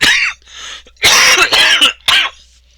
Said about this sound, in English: Ooh, darn this cough.